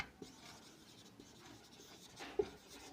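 Faint marker or chalk strokes scratch out sentences on a classroom board during an English grammar lesson, a few soft scraping strokes with one sharper tap near the end.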